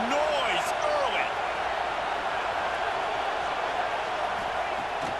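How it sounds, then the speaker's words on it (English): A video game stadium crowd in EA College Football 26 keeps up a loud, continuous roar, with whistle-like cheers and shouts rising early and then settling into a dense steady wash. "This crowd bringing the energy and noise early."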